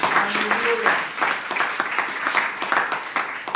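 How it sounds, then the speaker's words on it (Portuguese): Congregation at an evangelical church service applauding, a loud, dense burst of many hands clapping, with a voice briefly audible over it near the start before the clapping carries on alone. "Você pode aplaudir ao Senhor em nome de Jesus."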